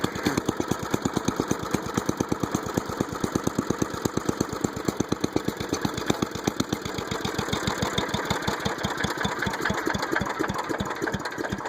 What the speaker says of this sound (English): Normally engines don't get that low on idle